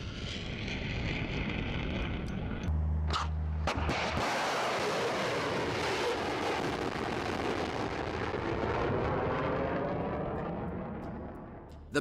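A Bastion-P missile launches in the Arctic, a sudden blast followed by a long, roaring rush that swells and slowly fades out.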